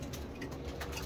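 Hungry pigeons coo softly at a feeder, low throaty calls over a constant background hum, close by and brief.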